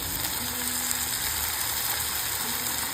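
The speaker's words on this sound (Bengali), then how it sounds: "আমি দুইটা চামচ সয়া সস দিচ্ছি" Soy sauce goes into a pan of Cocola noodles cooking with egg, and a steady, fairly loud hiss of frying and sizzling continues throughout with faint scraping, but no talk.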